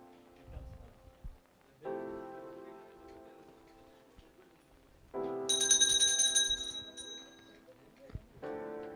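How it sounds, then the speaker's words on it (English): Start bell at a show jumping arena during a medium tour competition, ringing in a couple of sustained electronic bursts with a higher chime in the middle, quiet gaps of ambient murmur between. "The bell's gone off."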